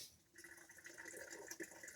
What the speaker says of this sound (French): on voit l'eau chaude là qui va arriver dans la bouillotte